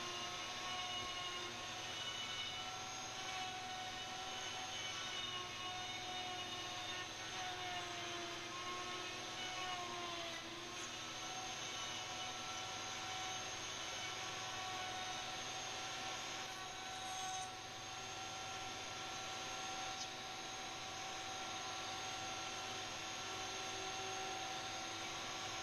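Steady loud whine and roar of a PantoRouter cutting a wooden tenon, continuous motor-and-bit noise for the full stretch with only small dips, no talking.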